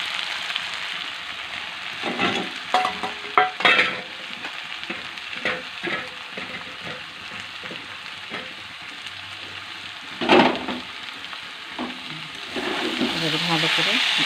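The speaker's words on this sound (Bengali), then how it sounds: "আমি এবার ছাতুটা ওর সাথে মিশিয়ে দিলাম।" Sattu is stirred into potatoes frying in a pan, with a steady sizzle and bursts of scraping and stirring up close. A voice speaks faintly under the cooking.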